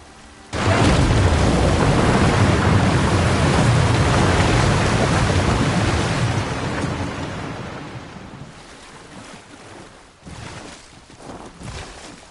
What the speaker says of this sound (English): Water is seeping through the cracks.